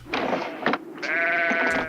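Sheep bleat in a truckload of livestock in a film scene, two or three loud, wavering calls close by in quick succession within a couple of seconds.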